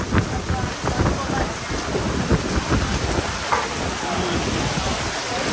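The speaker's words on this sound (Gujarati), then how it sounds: "તો બહુ ખતરનાક વરસાદ ચાલુ થઈ ગયો, જોઈ લો" Heavy rain pours steadily on surfaces during a storm in Patan, with thunder rumbling through, close and loud throughout with no break.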